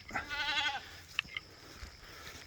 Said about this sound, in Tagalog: ito ang kambing